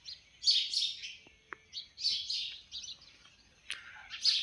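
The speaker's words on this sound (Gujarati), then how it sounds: "ચકલા સરવાઈ ગયા છે." Sparrows outside a village home give bright, quick chirps in scattered bursts, fairly close but soft, with short pauses between calls and a few faint knocks in a quiet background.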